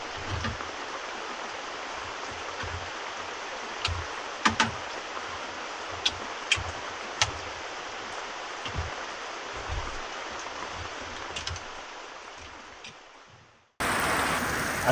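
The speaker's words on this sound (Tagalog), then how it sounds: "ay nagpatuloy pa rin ang malakas na buhos ng ulan" Heavy tropical rain pouring steadily during a storm, a dense loud hiss with a few sharp drips and knocks, close and constant, then a sudden cut near the end.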